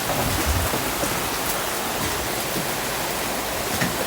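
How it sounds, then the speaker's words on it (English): Steady broadband wash of water from passing boat wakes splashing nearby, continuous and fairly loud with no pauses or voices. "The wakes, the boats, they go past."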